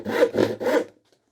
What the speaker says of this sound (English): we're going to go to the crosscut saw.